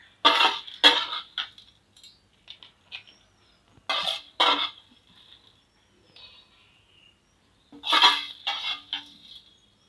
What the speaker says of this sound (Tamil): இப்போ நம்ம இதை அம்மியில் வச்சு அரைச்சி எடுத்துக்க போகிறோம்